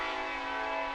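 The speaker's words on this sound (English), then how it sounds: "and then a train comes through." A train horn sounds as a train comes through near a county fair dog show, a steady, loud sustained chord held throughout without a break.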